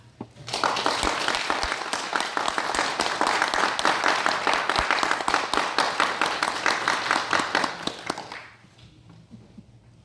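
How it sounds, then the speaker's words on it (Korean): Church congregation giving a loud, sustained round of applause as their former pastor, the church's fourth minister, comes forward, dense clapping filling about eight seconds before fading out abruptly. "우리 목사님 나오실 때 우리 크게 박수하겠습니다"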